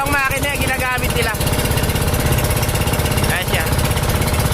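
A fishing boat fitted with two engines runs steadily with a loud, continuous chugging rumble, while someone talks over it.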